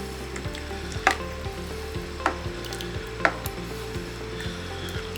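Sweet chicken curry stirred in a pan, with three distinct scraping knocks of the spoon over a steady low simmering sizzle, close and moderately loud.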